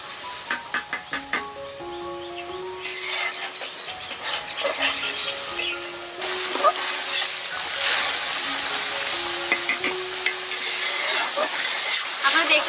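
Masala simmers in coconut milk until the oil separates, bubbling and sizzling steadily close by, with sharp ladle scrapes and clicks early on and a brisk stirring rhythm throughout.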